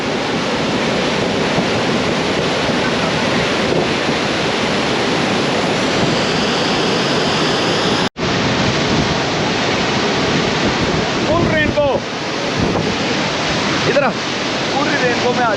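Montmorency Falls, a tall waterfall near Quebec, roars in a steady, loud broadband rush of falling water that fills the whole clip, with a brief cut midway and faint voices near the end.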